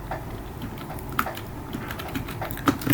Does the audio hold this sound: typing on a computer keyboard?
yes